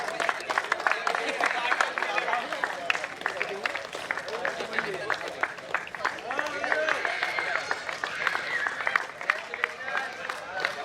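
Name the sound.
applause for the winning team at prize ceremony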